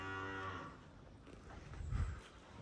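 A calf gives a short, fairly faint moo, followed by quiet shuffling and low background rumble.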